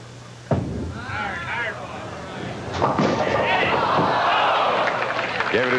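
A bowling ball crashes into the pins at a 1982 PBA National championship match with one sharp impact, followed by crowd murmur and a commentator talking.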